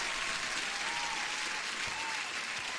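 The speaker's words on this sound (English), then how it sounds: "Man, you deserve an applause." A canned crowd applause sound effect plays during a live day-trading stream, an even, continuous burst of many hands clapping, fairly quiet and unbroken for a few seconds.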